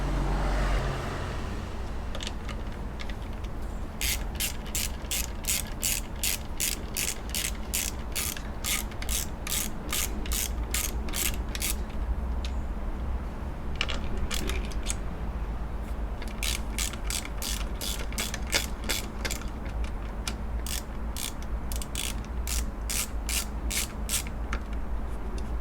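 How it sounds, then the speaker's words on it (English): A ratchet wrench clicks in repeated quick bursts while removing a 10mm nut and bolt from the alternator bracket of a Subaru Impreza, with short pauses between runs of close, sharp ratcheting. "next we're going to take this bracket off here, and that's a 10mm nut on that side and a 10mm bolt on that side"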